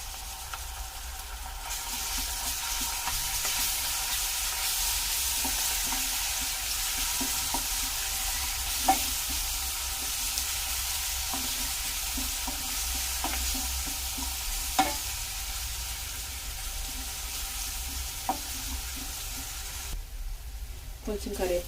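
Ginger garlic paste and curry leaves fry and sizzle steadily in a pan for eggplant dum biryani, with a continuous hiss, occasional stirring clinks and scrapes, and no talk.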